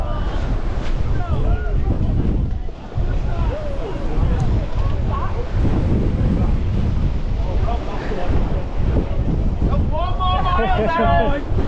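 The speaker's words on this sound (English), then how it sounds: "Really windy down here at the start." Strong wind buffeting the microphone in low rumbling gusts at the start of a trail running race, with a person talking over it and other voices nearby.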